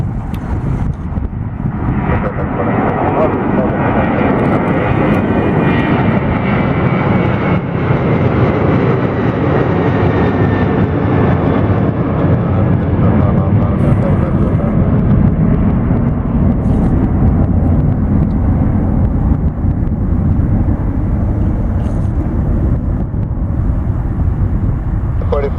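An airliner departs from Detroit Metro Airport, its jet engines roaring loud and steady throughout, close by and slowly shifting in tone. Voices are heard over the roar.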